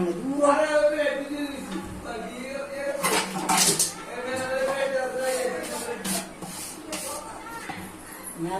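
A metal lid goes onto a pot of beef cooking over medium heat, making a few close metallic clanks and scrapes while someone talks over them.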